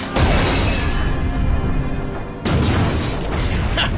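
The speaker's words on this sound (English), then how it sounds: "He's survived getting hit by rockets, including this RPG that fragmented a giant cliff face." An RPG rocket blast fragmenting a giant cliff face, a loud booming roar that rumbles on, dips briefly, then swells again with crumbling debris.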